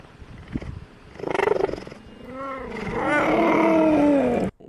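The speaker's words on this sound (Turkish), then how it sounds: "Aslan miyavlar mı lan?" A lion gives short, strained meow-like calls and growling sounds instead of a full roar, rising and falling over several seconds at close range, with no talking.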